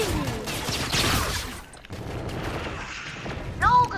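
Double minigun blazing in Call of Duty: Infinite Warfare, a dense, continuous roar of rapid fire that dips briefly midway then resumes, with game effects and a voice faintly over it.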